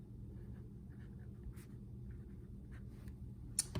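A pen scratches quietly on paper as a number is written down by hand, with soft, brief strokes over a low background hum.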